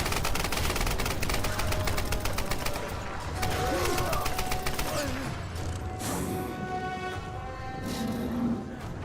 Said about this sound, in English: it's just constant wind and explosions